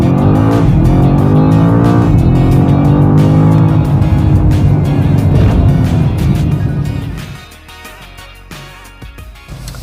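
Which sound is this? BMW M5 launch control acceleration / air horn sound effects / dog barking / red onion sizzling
BMW M5 launch control acceleration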